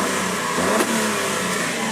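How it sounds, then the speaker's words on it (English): A 1998 Honda Acty's mid-rear-mounted engine runs at a fairly high idle, a steady close mechanical drone with a slight rev blip partway through, no voices present. "You can hear the engine now."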